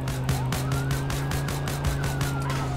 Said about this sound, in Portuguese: Olha lá, a viatura vindo atrás.